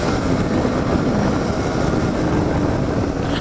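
Steady, loud engine drone from a Yamaha DT125 two-stroke motorcycle fitted with a pod filter, ridden along country lanes, holding an even note with constant wind rush and no pauses.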